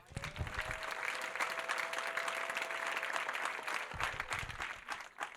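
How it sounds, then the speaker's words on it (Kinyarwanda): A church congregation at a Rwandan ADEPR service breaks into sustained applause, dense clapping from many people filling the hall, with brief voices at the start and near the end. "dukomere Imana amashyi"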